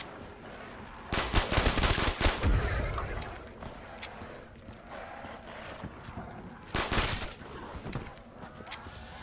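Bursts of rapid gunfire ring out in Call of Duty's Mob of the Dead zombie mode, one loud volley early, then scattered shots, then a second burst near the end, with no talking.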